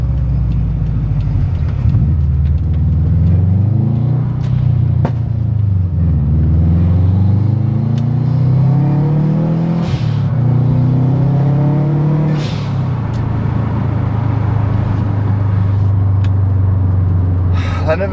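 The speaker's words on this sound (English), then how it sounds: "You can't beat a Subie rumble." A Subaru WRX engine rumbles loudly and steadily, with several rising revs that climb and fall across the stretch, close and continuous with no talk.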